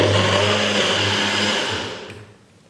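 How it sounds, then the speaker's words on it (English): Kitchen blender whirring steadily as it blends a ginger shot smoothie with avocado, a loud continuous motor drone that slows and winds down to a stop near the end. "get it into the blender and try and see which setting it needs to go on to work"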